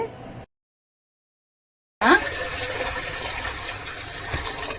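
Water pours into a rice flour mix for sesame murukulu dough, a short burst at the start, then a gap of silence, then a steady, continuous pour running to the end.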